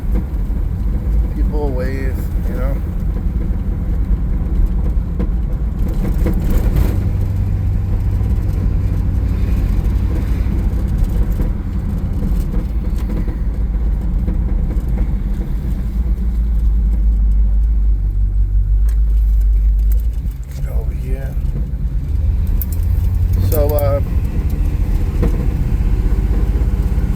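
A 1955 Chevrolet Bel Air two-door hardtop cruising around the block, its engine a low steady rumble heard from inside the cabin, with someone talking over it at intervals.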